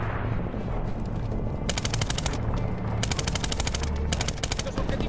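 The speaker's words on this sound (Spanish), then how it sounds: "Nos han detectado. Nos disparan." Automatic gunfire in Medal of Honor (2010) rattles off in several sharp bursts over a dense battlefield rumble, with speech faintly mixed in.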